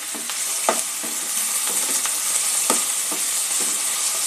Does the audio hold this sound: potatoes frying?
yes